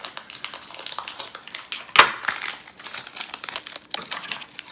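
Plastic wrapper on a pack of 1996 Topps Series 2 baseball cards being slit and pulled open, a steady close crinkling with one sharp tearing snap midway, no voices.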